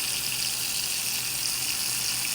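Water runs steadily from a tap during a home inspection, a continuous hissing gush filling the whole stretch, close and fairly loud, with no talking.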